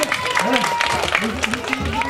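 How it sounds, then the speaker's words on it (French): Applause for a performer at a children's event in Raismes: a crowd clapping steadily while a voice speaks over the clapping. "Allez, on peut applaudir l'artiste"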